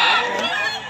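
Chickens at a busy poultry market, a dense mix of loud, close squawking and clucking calls with crowd bustle underneath.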